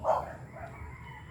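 A single dog barks once at a distance outdoors, a short muffled yelp followed by faint fading echoes over low background noise.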